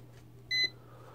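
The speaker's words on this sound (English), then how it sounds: "when you get that, you get the transmitter beeps at you" A Hubsan H109S X4 Pro GPS drone transmitter gives one short, bright electronic beep on GPS signal loss, clear against a low steady hum, with no talk.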